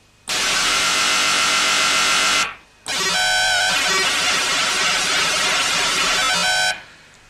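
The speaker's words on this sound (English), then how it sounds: "Early synthesizers had a separate oscillator that generated random noise." Random noise from an early synthesizer's noise oscillator plays in two loud sustained bursts, a bright dense wash about two seconds long, a brief gap, then a longer burst with shifting tonal streaks, alone without talk.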